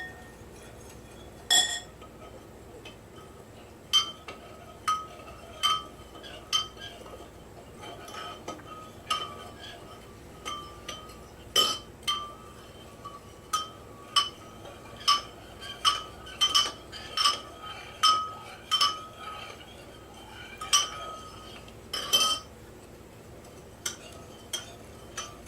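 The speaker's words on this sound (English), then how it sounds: "now I want to stir all of these until they dissolve the" A spoon stirs Jello in glass dishes until it dissolves, giving scattered, bright clinks that come in irregular bursts over a quiet background.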